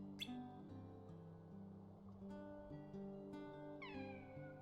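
A cat meows in the video game Kingdom Hearts 2 over a steady bed of game music and ambience. A few short, faint meows are mixed into the soundtrack, and no one speaks.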